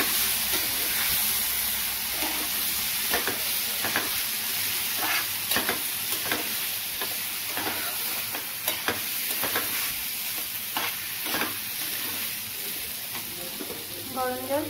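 Spices fry in a pan with a splash of hot water for a Bengali shol fish kalia, producing a loud, continuous close sizzle and hiss, punctuated by repeated stirring scrapes throughout.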